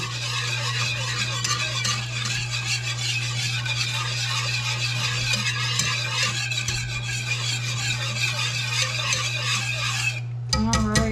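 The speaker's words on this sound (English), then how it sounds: "You want to keep stirring so you don't have lumpy gravy." Gravy being stirred in a pan on the stove, seasoned with salt: a steady scraping, bubbling texture over a constant low hum, continuous for about ten seconds before a brief pause and a clatter.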